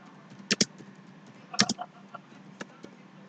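Keys on a computer keyboard are tapped in short, uneven clusters of clicks during data entry in accounting software, quiet and close in a calm room.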